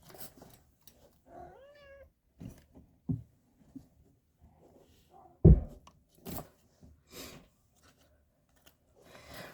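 A house cat meows a few times, clearly and close by, among scattered quiet knocks and a sharp thump in an otherwise hushed indoor room.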